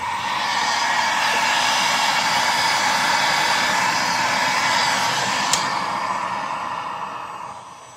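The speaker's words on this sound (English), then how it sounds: "Pull the heat gun back out." A heat gun blows hot air in a steady, loud whooshing hiss over crayon fluid art, holding constant for several seconds with a small click near the end and no talk.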